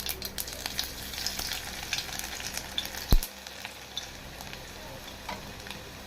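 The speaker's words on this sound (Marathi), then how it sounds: "मी इथे जिरे आणि मोहऱ्याची फोडणी देत आहे" Cumin, mustard seeds and garlic tempering in hot oil for a bitter gourd sabji, giving a steady, close crackling sizzle with scattered pops and one sharp thud midway.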